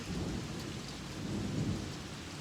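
Rain falls outdoors in a steady, dense patter with a low rumbling undertone, heard alone and fairly close throughout.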